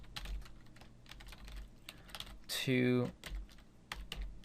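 Keys clatter on a computer keyboard while a folder is renamed, with close, quick clicks spread across the moment and a brief voice in the middle.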